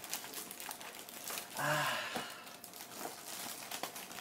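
Packaging of a Logitech G710 mechanical keyboard being unwrapped indoors: continuous close crinkling and tearing of plastic wrap with scattered crunches, brief rustle swells, no talking.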